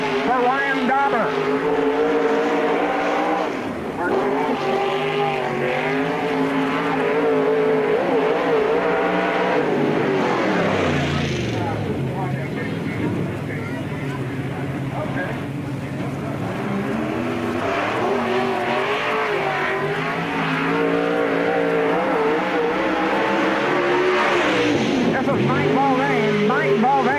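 A race car runs a timed lap at Spoon River Speedway in Illinois, its engine revving and droning up and down through the corners beneath a steady announcer's voice over the PA.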